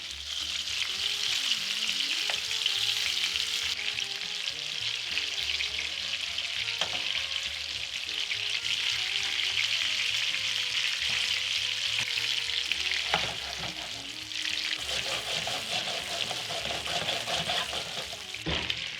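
Meatballs sear in a hot pan with a steady, loud sizzle for the whole stretch and the odd clink or stir along the way. Nobody speaks.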